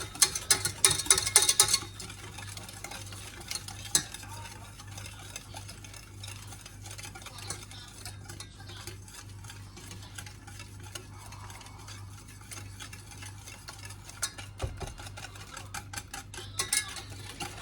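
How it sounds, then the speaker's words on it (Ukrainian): Eggs being stirred into lemon cake batter in a bowl, a steady soft scraping and swishing that runs throughout, with brief clinks near the start and a low constant hum underneath. "беремо 2 е, яйця, додаємо ще. І це перемішаємо"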